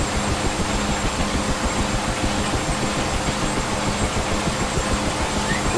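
A UH-1H helicopter engine idling steadily in the DCS World flight simulator, a continuous low rumble with a faint high whine, loud and unbroken throughout.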